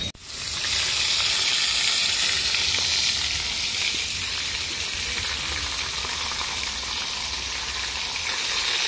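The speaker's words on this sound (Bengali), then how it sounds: "দেখো আমি এখানে মশলা আমার ভাজা হয়ে গেছে, আর মাছ ভাজাও হয়ে গেছে" Fish pieces and masala fry in a pan for a fish curry, giving a loud, steady sizzle and crackle from start to finish, close up, with no talking.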